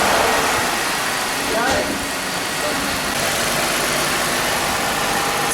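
A Jeep Wrangler engine runs at a steady idle, loud and close with a constant mechanical drone, while a person briefly speaks over it.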